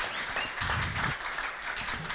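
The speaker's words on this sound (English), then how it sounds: "round of applause for Mr." An audience at the Vitiligo Society Open Day applauds a speaker, Mr. Thomas, with a steady patter of many hands, moderately faint and even, lasting about two seconds without a break.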